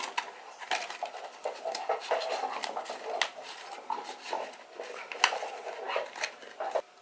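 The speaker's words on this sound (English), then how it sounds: "So if you hear some noise, it's my dog" A pet dog moves about a room, its claws and body making scattered light clicks, taps and rustles with soft panting, close by and fairly quiet, with no talking.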